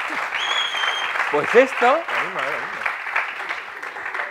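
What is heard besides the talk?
audience applause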